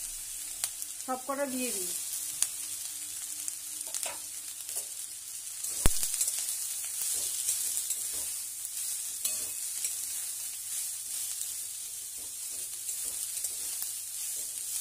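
Vegetables sizzle and fry in hot oil as they are stirred, a steady close crackle with scraping strokes throughout and a brief spoken phrase near the start.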